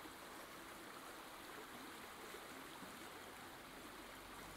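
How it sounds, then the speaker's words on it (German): Acidic water in a video game washes around stones as a steady rushing, stream-like flow, soft and continuous with no voices. "Die Steine werden von dem sauren Wasser umspült."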